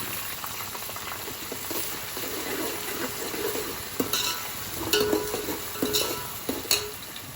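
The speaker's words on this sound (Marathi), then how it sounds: "आता त्याच्यामध्ये फ्राय होऊ देते व्यवस्थित." Green chillies and tomatoes fry and bubble in a pan for biryani, giving a continuous close sizzle and boil with occasional spoon clinks and scrapes against the pot toward the end.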